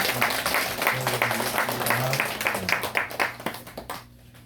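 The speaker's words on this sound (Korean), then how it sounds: "다시 한번 축하의 박수를" A church congregation at a Korean Sunday worship service breaks into a loud round of applause, dense overlapping clapping mixed with some voices, thinning out and fading near the end.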